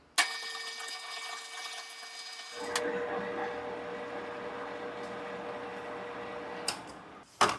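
Lathe cutting a thread with the compound setting depth of cut: a steady machine whine and hum starting abruptly, then a rougher continuous cutting drone, ending with a couple of sharp clanks.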